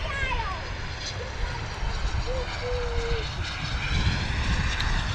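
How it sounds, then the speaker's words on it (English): An Embraer jet arriving at London Luton Airport gives a steady, broad engine roar that holds fairly loud throughout, with a faint whine above it. "Beautiful arrival there from the little Embraer."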